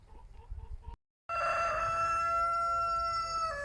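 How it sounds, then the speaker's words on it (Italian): Rooster crowing nearby, a sustained loud tonal crow following a shorter burst of clucking and a brief cut, heard alone without talk. "questo è fatto tutto con la musica del gallo che canta"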